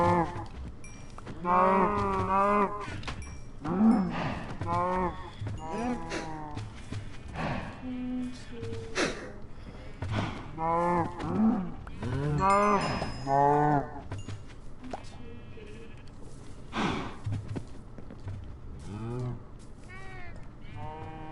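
Cattle in a blocky Minecraft-style game moo again and again, the low drawn-out calls overlapping and coming at uneven intervals, while people talk over the herd now and then.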